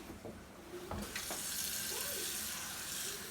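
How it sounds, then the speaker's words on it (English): Water poured from a tap into a pot of pinapaitan beef soup, a few small knocks followed by a steady, close rushing stream that fills the rest of the moment. "I'm gonna add like 3 cups of water."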